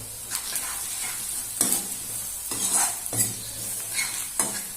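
Chicken curry masala frying in a pan, with coriander powder, onion and chili, sizzling steadily up close while a spoon stirs and scrapes the pan in irregular strokes, with no voices.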